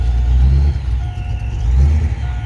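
A supercharged Saleen Mustang idles with a deep, loud rumble close by, the engine note swelling in two brief blips before settling back, with no talking.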